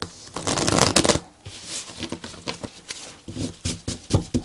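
A Druid Tarot card deck being shuffled up close, a long dense riffle followed by a run of quick, uneven flicks and taps of cards, with no one speaking.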